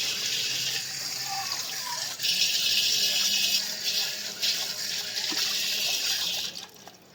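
Water runs steadily from a tap into a cooking pot as it is rinsed clean after making sugarcane juice pudding, a continuous close hiss and splash with shifts in level, ending as the flow stops.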